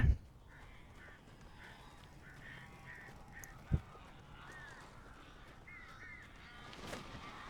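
Crows cawing in the Alan Wake video game, a string of faint, hoarse repeated calls over a dark ambient backdrop, with a couple of sharp thuds.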